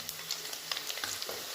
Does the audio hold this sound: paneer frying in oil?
yes